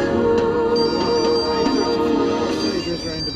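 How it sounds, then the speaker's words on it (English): A telephone rings in a radio broadcast, its tonal trill steady throughout and sitting amid a dense, busy mix of other sound. "Phone rings."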